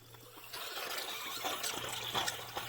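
Water drains out of an electric water heater during installation, a soft, continuous trickle and gurgle with a faint low hum underneath, heard up close.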